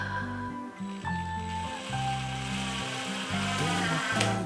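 Wood screws driven into pre-drilled pilot holes while building a wooden mailbox. A power driver whines steadily and close, its pitch dropping and rising as each screw bites and seats, with no voices.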